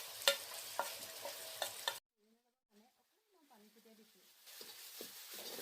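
Onion, garlic and ginger frying in a pan with turmeric, garam masala, coriander powder and chicken masala, a close sizzle with spoon clacks that cuts off briefly while someone speaks, then returns under the voice.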